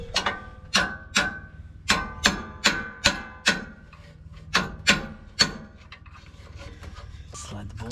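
A bolt and spacer are worked into a Rough Country 6-inch lift kit on a 2020 RAM 1500 in a driveway, giving a run of about a dozen sharp metallic knocks and taps, loud and close, then quieter scraping.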